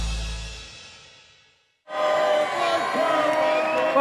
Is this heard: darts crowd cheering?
yes